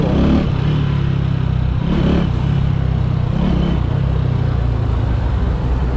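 A stunt motorcycle engine runs loud and close, with a steady rumble and a few brief revs rising above it, held around 3000 rpm.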